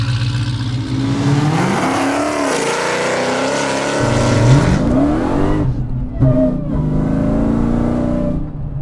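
A 1200hp all-carbon-fiber Speedkore Dodge Demon accelerating hard, its loud engine roar climbing through the revs with rising pitch sweeps, a brief dip at a gear change, then pulling hard again close to the microphone.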